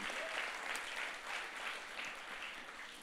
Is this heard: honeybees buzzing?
no